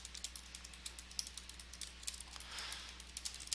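Steady, rapid clicking of fingers typing on a computer keyboard, close and fairly quiet, with light irregular keystrokes running continuously over a low background hum.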